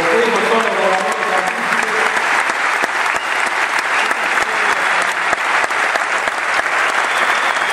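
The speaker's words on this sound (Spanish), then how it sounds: "quisiera que repitamos el aplauso con esos muchachos" A large audience at a 2014 talk in Buenos Aires breaks into loud, sustained applause, dense clapping that holds steady from start to finish with no voices rising above it.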